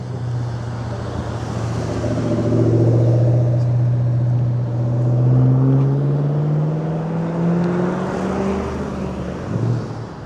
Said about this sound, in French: Un sacré bruit la GT500, je vous le dis.